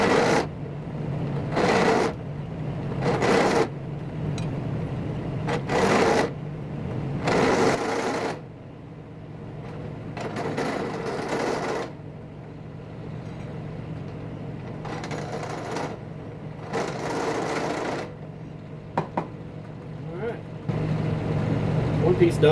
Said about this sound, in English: you can see how it countersinks and deburrs that hole. It really matters on the back side because there's big burrs on the back side when you drill in the metal